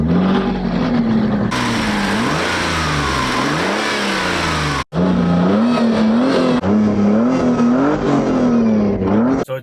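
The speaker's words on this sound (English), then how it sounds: "So driving the 3000 GT, so let's take it for a spin." Mitsubishi 3000GT SL with a 3.0 liter V6 driving hard, its engine loud and close as it revs up and down through repeated rising and falling pulls, with a brief cut partway through.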